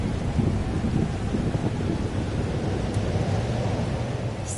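A thunderstorm in the video game Life is Strange: Double Exposure: a steady, dense rumble of wind and rain, with a low roll of thunder under it and no voices.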